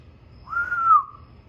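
A person tries to whistle and gets out a single thin, wavering tone that lasts about half a second, close and alone against quiet background.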